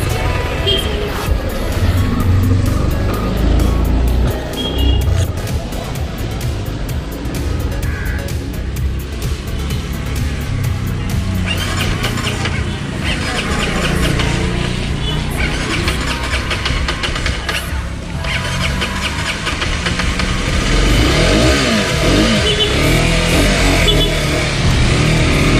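Engine of an Aprilia 125 RX motorcycle on a test ride, a continuous loud buzzing drone with wind rush that holds steady throughout and shifts slightly in pitch as the bike pulls, no clear talking over it.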